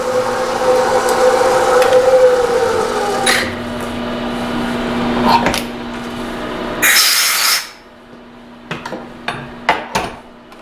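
A machine tool's solid carbide cutter takes a light cut in steel that is not very hard. Steady whirring and scraping run loud for about seven seconds, then a brief louder burst follows, and the sound ends in a few faint metallic clinks.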